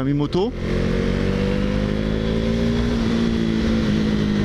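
A KTM Duke 390 single-cylinder motorcycle engine, about 32 horsepower, pulls steadily in third gear while riding, with a brief rise in pitch at the start and then a constant droning hum.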